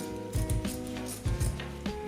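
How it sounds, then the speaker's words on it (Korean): Scissors snip through a thick part of a battle jacket in short crunchy cuts, a few close, distinct strokes in quick pairs. "여기 가위 좋은 걸 썼더니 너무 잘잘린"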